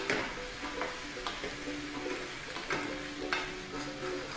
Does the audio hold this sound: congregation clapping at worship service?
no